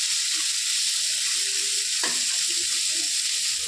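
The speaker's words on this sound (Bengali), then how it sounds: "নাড়াচাড়া করে নিচ্ছি, একটু লবণ আর একটু হলুদ দিয়ে নাড়াচাড়া করবো।" Note shak greens fry in oil with salt and turmeric for a Bengali chorchori, making a steady dense sizzle close up, with a single stirring scrape partway through and no speech.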